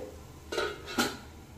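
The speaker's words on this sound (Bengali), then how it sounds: "এর মধ্যে কিন্তু সাথে সাথে বাটিটা এভাবে বসিয়ে দিতে হবে" A bowl of dhokla batter set down into a metal steamer pot: two short, close clinks of metal and crockery about half a second apart in a quiet kitchen.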